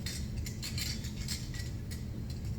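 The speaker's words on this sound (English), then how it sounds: "I think I want to continue my curve down a little bit so I can hold my ribbon tool against my pot" A metal ribbon tool scrapes against a clay pot during trimming on the wheel, a steady soft scraping with light metallic ticks over a low continuous hum.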